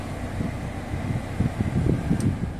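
A steady, strong rush of air blowing from a Toyota Innova's air conditioner vent, a continuous breathy hiss over a low rumble, with no voices.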